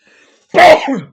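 A single sharp, loud sneeze close to the microphone, a burst that quickly trails off, with silence before it.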